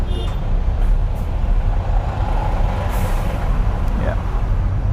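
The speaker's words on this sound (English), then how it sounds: "Careful with this lorry." A lorry passes close by on a road during a driving lesson, a heavy broadband engine and tyre rumble running steadily throughout, with a brief air-brake hiss; people talk in the car.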